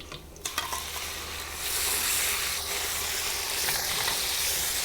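Pork tossed into a pan of browned garlic for a sweet and sour pork and shrimp stir-fry, a few stirring clatters followed by a loud, steady sizzle that swells and holds close up.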